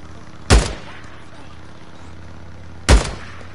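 Two loud, sharp gunshots about two and a half seconds apart in the video game Days Gone, each a sudden crack with a short decaying tail over a low steady game background.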